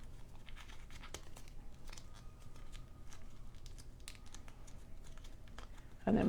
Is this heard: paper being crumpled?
yes